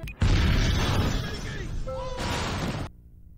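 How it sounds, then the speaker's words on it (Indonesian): A car explodes in a film scene with a sudden loud boom and roaring blast that fades over about two and a half seconds before cutting off to quiet. "Mobil Tuan Raja keburu meledak di hadapan Janki dan Chandu"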